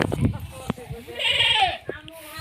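Goats bleat in drawn-out, wavering cries close by, with clattering and a person talking amid the farmyard noise.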